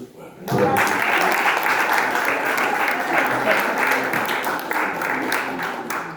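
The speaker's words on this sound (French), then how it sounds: "je pense qu'on peut encore l'applaudir" A crowd claps for a performer at a faith testimony arts event in Fréjus, applause bursting in after a brief quiet moment and holding steady and loud throughout.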